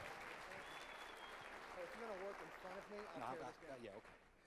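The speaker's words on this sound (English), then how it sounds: "let's give Reggie another round of applause because he did a fantastic job" An audience at a show applauds for Reggie, a continuous round of clapping heard quietly and at a distance, with voices talking and calling out over it in the second half.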